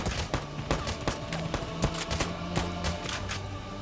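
Rapid bursts of gunfire crackle in the Valkyria Chronicles 4 video game, dense and sharp, with repeated close shots in uneven rhythm.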